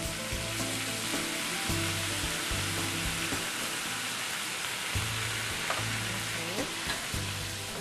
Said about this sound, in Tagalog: Lalagay muna natin ang ating water.